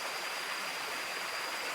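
A waterfall with clear water pours in a steady, unbroken hiss of rushing water, even and constant throughout, with no voices over it.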